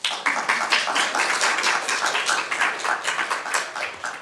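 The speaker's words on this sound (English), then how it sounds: "I didn't get that kind of an applause when I spoke" Audience members at a city council meeting clap in a brisk, fairly even rhythm of sharp, close hand claps, sounding like a small group rather than a large crowd, with no talking over it.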